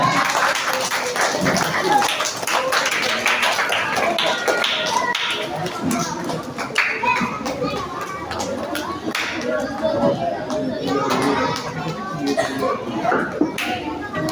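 Clapping from a gathered audience at a children's Quran school anniversary celebration, a loose patter of hands mixed with chatter and children's voices, continuing at a moderate level throughout.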